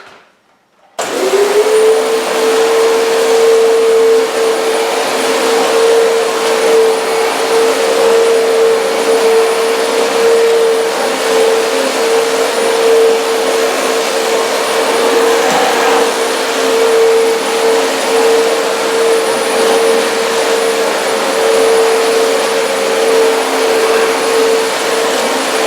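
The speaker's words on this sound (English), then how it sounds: "So we're going to go ahead and vacuum" A vacuum cleaner switches on and runs over a new rug, a loud, steady droning whine that holds nearly constant for about 25 seconds with no talking.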